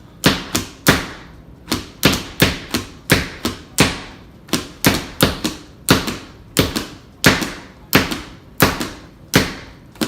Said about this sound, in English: At that tempo, we'll never get this onion cut up.